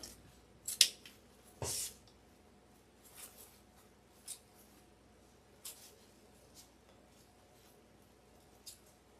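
Scissors trim ribbon for an elf-themed Christmas wreath in a quiet room. Two crisp, close snips come near the start, followed by fainter scattered clicks of the blades.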